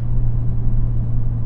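A Porsche 991 911 Turbo S accelerates hard, its engine a loud, continuous low rumble heard close up from inside the car, with no talking.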